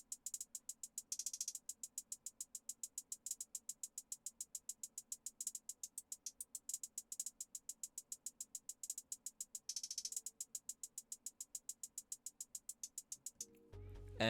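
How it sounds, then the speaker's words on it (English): Hi-hat pattern from a hard trap beat, rapid evenly spaced crisp ticks with brief faster rolls, quiet and alone, ending in a low thump. "the hi-hat pattern sounds like this"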